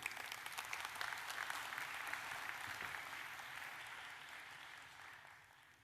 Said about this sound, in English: Round of applause for Perelada.